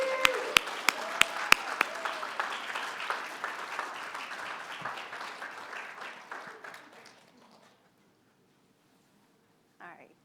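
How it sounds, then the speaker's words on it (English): An audience at a tech panel event applauds as panelists walk on stage, dense clapping with a few sharp close claps early, gradually fading out, then a short voice at the end. "Let's please give them a round of applause as they come to the stage."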